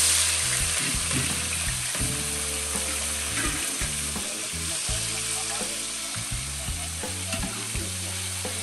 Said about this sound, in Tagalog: Medyo maluto lang po yung bawang sibuyas at saka luya.